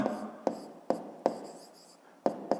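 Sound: writing by hand

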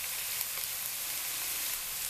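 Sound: chicken sizzling in a pan, stirred with vegetables

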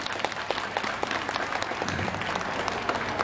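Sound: audience applause at a concert

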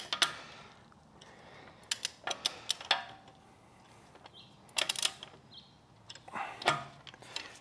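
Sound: torque wrench tightening Mini Cooper wheel

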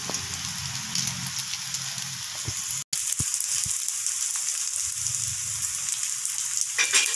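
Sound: vegetable potato cutlets frying in oil

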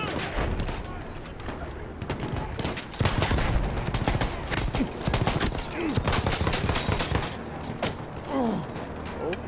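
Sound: gunfire in Battlefield 1 video game

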